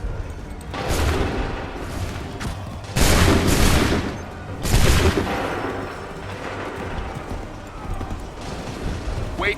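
Muskets fire in ragged volleys during a battle in Assassin's Creed III, a roaring booming crackle that swells several times over a rumbling background with horse hooves.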